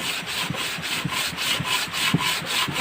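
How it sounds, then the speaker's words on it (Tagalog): Hand sanding with sandpaper: brisk, even back-and-forth gritty strokes repeating several times a second, close and clear with no talking. "liha tapos tingnan"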